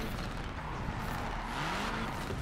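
Ford Focus RS engine in Forza Horizon 4, drifting through a gymkhana run: a steady, loud, continuous engine drone with rising and falling revs and a tire-scrub hiss, alone without talk.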